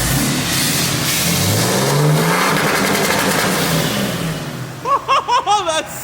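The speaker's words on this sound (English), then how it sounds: "here's a hard cut limiter" A 4th gen car engine holds steady at high revs with a droning tone, then bounces off a hard cut rev limiter in a rapid series of sharp stuttering pulses near the end.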